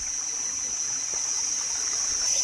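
Steady, continuous rush of flowing stream water with a bright hiss, constant in level throughout, no voices.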